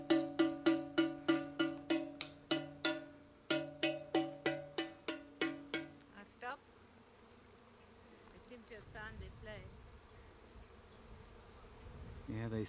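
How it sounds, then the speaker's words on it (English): A pot is banged in a fast, regular run of ringing metallic clangs, with a short pause partway. The clanging then stops, leaving a low, wavering hum of honeybees buzzing nearby. "Banging on a pot."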